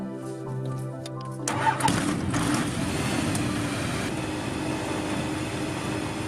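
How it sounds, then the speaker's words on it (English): A light aircraft's piston engine coughs and catches, then settles into a steady, loud running drone as it warms up, continuing evenly at close range, with no talking. "That's the engine warming up"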